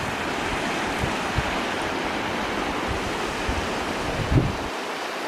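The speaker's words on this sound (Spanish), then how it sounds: "¡Ey! Me encontré un río de repente." A mountain river runs from Cerro Fitz Roy near El Chaltén, Argentina, a steady rushing wash of water mixed with gusts of wind on the microphone, with no talking.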